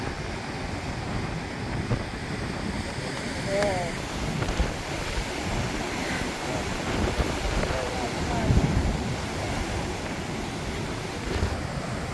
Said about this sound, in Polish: To się nazywa fala w basenie.